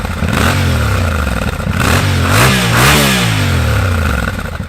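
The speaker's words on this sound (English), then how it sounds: "it's got a great note at the exhaust" A Yamaha Tenere 700 with a CP2 parallel twin engine revs repeatedly close by, its exhaust note rising and falling in several throttle blips over a rumbling idle.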